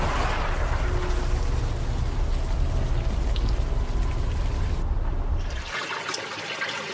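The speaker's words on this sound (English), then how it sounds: "At least the rain is washing away most of the smell." Heavy, steady video game rain hissing on surfaces with trickling water, dropping abruptly near the end to a lighter, thinner patter.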